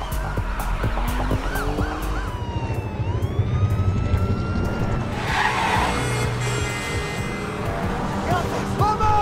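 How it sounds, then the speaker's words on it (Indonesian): Car accelerating hard as it flees police cars in a film chase, loud engine roar with screeching tire squeals and wailing sirens, all under a narrator's voice. "Sambil panik, Polly menancap gas mobilnya yang kini sedang dikejar-kejar oleh polisi."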